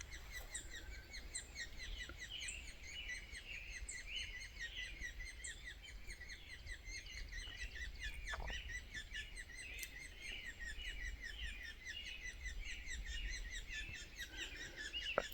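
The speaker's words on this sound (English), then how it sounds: "I found the bird. It was not the woodpecker I wanted. It was a Williamson sapsucker" A Williamson's sapsucker calls repeatedly on a hike, a steady run of high chirping notes in a continuous series, faint and distant over a low outdoor rumble.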